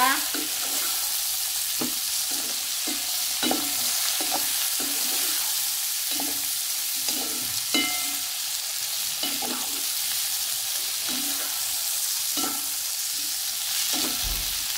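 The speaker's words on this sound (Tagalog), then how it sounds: "Ngayon ilalagay na natin yung ating hipon." Shrimp sizzling in a frying pan for buttered garlic shrimp, with steady hot-oil crackle throughout and repeated stirring scrapes at a regular pace, close and loud, with no talking.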